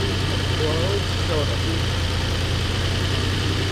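A car engine runs steadily at idle with a low, even hum and vibration that holds throughout, a few brief voice-like tones rising faintly above it.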